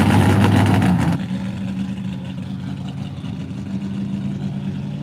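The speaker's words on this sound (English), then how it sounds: "we're definitely got some street burnouts going on" A car doing street burnouts at a street party: a loud roaring engine burst for about a second, then a sustained lower droning engine hum continuing steadily with tire-and-exhaust noise.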